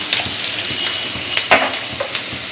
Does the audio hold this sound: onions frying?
yes